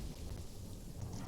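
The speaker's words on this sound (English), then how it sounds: "Oh, I think that's the thunder." A low, continuous rumble of thunder rolls over soft rain in the Planet Zoo game, faint and distant, lasting about a second with no voices.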